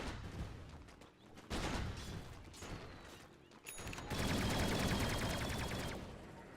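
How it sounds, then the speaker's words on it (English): Flak Cannon ability effect in Dota 2, heard as a burst of rapid gunfire-like crackling shots, with a dense rattling barrage building loud in the second half. "Really not a fan of that sound they added to Flat Cannon."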